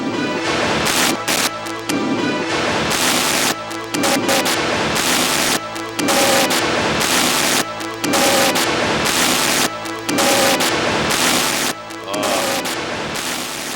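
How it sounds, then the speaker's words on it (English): Circuit-bent Sega Saturn running the Panzer Dragoon intro in a glitched state, giving loud, chaotic bursts of harsh noise broken by abrupt dropouts every second or two, with stuttering tonal fragments repeating throughout. "Here's the intro to Panzer Dragoon going crazy."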